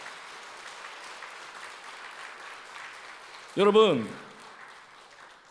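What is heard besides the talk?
encouraging applause from church congregation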